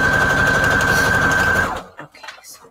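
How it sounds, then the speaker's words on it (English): A sewing machine stitches a wide, long zigzag through a junk journal signature, a loud, fast, steady mechanical whir lasting under two seconds before stopping, followed by faint handling noises. "Okay, so I'm going to use zigzag stitch again."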